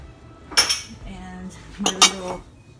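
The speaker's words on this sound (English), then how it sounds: "So I'm going to pour this in my pans" Metal baking pans clink and clatter in two short bursts, close by as batter is poured in, with quieter handling in between.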